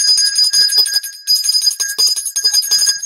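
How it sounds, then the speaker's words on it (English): A small hand bell rings steadily with bright, repeated metallic strokes, loud and close for about three seconds, with one brief pause partway through, played as the old Ed Norton Honeymooners Thelma bell. "followed by the old Ed Norton Honeymooners Thelma bell"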